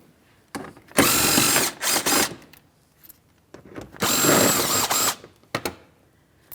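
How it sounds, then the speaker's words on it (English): A power tool spins out 7mm-head mounting bolts behind the fender liner of a 2015-2016 Chevrolet Malibu, with two loud, close whirring bursts of about a second each and short clicks and handling noises between them. "Let's start removing each of our 7mm headed mounting bolts."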